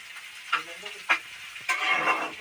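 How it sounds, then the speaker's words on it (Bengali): Cauliflower and potatoes fry in a pan with a soft sizzle, broken by a few scraping stir strokes and a louder burst of crackling near the end. "লাল লাল করে ফুলকপি আলু ভাজি"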